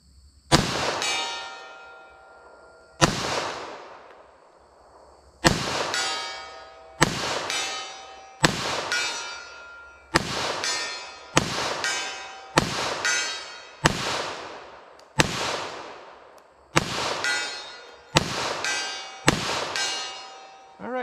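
About ten .45 ACP full metal jacket rounds fired into ballistic gel, each a sharp loud crack with a ringing decay, spaced roughly two seconds apart and growing quicker toward the end, with no talking.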